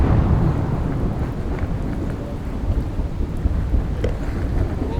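Thunder rumbling low and continuous over steady heavy rain during a storm on the Horton River in the Arctic, a dense wash of sound with no voices.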